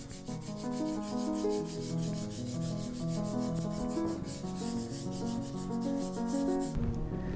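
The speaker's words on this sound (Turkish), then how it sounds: "Şimdi ilk olarak zımparalama işlemini yapıyoruz" Sandpaper rubs over a ceramic vase form in quick, even back-and-forth strokes, a close, dry scratching rhythm that continues steadily and alone.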